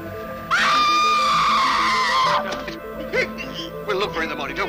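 A loud, sustained high scream from Swan in the night, about two seconds long, followed by fainter wavering cries and rustling against a low background hum.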